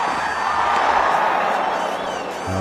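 A cricket stadium crowd at an India–Australia ODI World Cup final roars in anticipation of a free hit, a dense, loud, sustained wash of cheering and whooping with no breaks.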